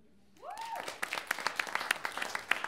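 Comedy club audience bursting into applause and scattered claps after a stand-up comedian asks a question, dense clapping building quickly and holding steady with sharp individual claps poking through, no talk over it.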